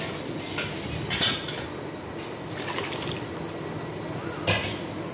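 Papaya sambhar stirred in a cooking pot, a spoon scraping and clinking against metal in a few brief bursts over a low, steady background, with soft wet sloshing of the thick mixture.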